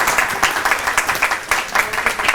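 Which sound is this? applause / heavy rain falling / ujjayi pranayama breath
applause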